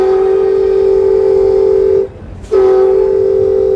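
An Amtrak San Diego passenger train sounds a loud, sustained horn blast close by, which cuts off briefly and then resumes.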